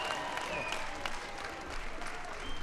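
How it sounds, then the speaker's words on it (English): A White House ceremony crowd honoring the Super Bowl XLVI champion New York Giants applauds with continuous, fairly distant clapping at low volume and no break. "Give the New York Giants a big round of applause."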